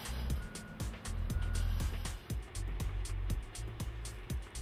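A 50-ton truck works in a quarry as an excavator loads it with rock, its heavy engine rumbling steadily while repeated clunks and impacts ring out at irregular intervals.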